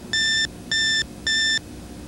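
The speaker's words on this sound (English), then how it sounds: "You'll hear the power supply warm up, then beep for test" An IBM PC's power-on self-test sounds three clear, evenly spaced electronic beeps, each about a third of a second long, over a quiet background hiss.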